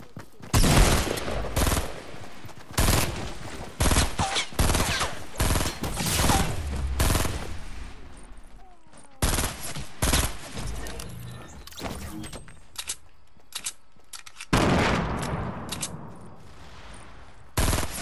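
Loud bursts of rapid gunfire from a Fortnite match come in dense volleys, breaking off into short pauses and single cracks before another heavy burst near the end.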